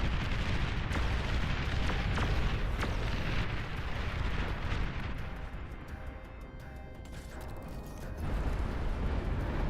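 Heavy artillery barrage from a Ragnarok superweapon in the strategy game Beyond All Reason, a dense rumbling wall of booming explosions that keeps going the whole time, loud and continuous with no talk.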